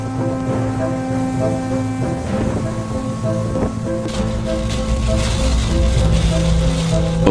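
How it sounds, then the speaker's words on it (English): Typhoon Shanshan brings steady heavy rain and roaring wind, a dense, continuous wash that builds louder toward the end, with tonal hums and scattered knocks over the storm. "it still unleashes howling winds, ferocious ocean waves, and rain pouring down as if the sky is emptying the entire ocean onto the earth"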